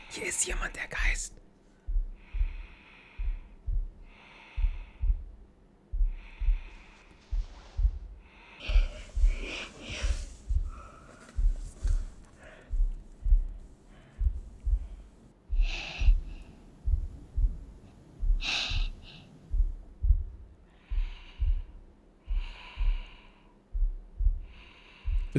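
Heavy, raspy ghost breathing in the horror game Among the Sleep comes in slow rhythmic inhales and exhales, each pulsing over a low thump, with occasional whispery bursts and faint talk in between.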